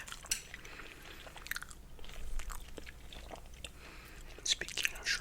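Grilled chicken skin sushi being bitten and chewed close to the mic, with soft crunchy bites and wet mastication sounds in irregular bursts, quiet overall.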